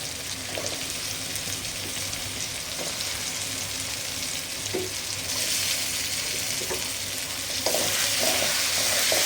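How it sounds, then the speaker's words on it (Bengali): Eggs go one by one into a pan of sautéed onions frying in oil. A continuous sizzle runs throughout, with occasional light clinks from stirring, and the sizzle grows louder toward the end. "আমার পেঁয়াজটা কষানো হয়ে গেছে ডিমগুলি একটা একটা করে দিয়ে দিই"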